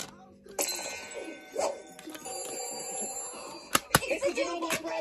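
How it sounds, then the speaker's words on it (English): The Doodlebop Red Hot Phone from the children's TV show rings with bright, metallic bell-like tones, sounding in repeated bursts alongside music and a few sharp clangs. "It's the Doodlebop Red Hot Phone!"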